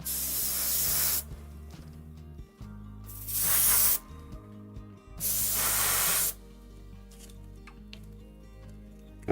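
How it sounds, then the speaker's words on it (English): Airbrush spraying paint onto a model aircraft, two loud sustained hissing bursts several seconds apart with quieter gaps between, over a steady background hum. "just remembering to spray away from the fuselage"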